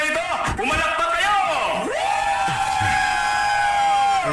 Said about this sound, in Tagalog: Kung gusto niyo ang rapper na ito, pumalakpak kayo!